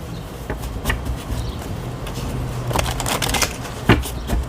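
Tarot cards riffled and shuffled in quick, papery bursts, with several sharp flutters and snaps spread across the stretch at close range, no talking over them.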